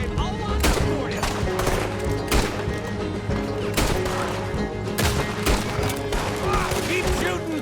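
Repeated gunfire in the Red Dead Redemption II video game, a steady barrage of loud shots and bursts with music or ambience underneath and occasional voices.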